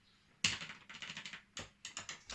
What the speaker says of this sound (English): You have to push keyboard keys for that, do you?